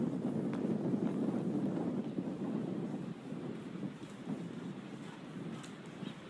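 Wind buffeting an outdoor microphone, a steady low roaring rumble that stays loud for the whole stretch and eases only slightly near the end, with no voices.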